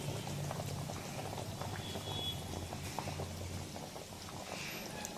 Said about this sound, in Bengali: এটা কিন্তু ফুটছে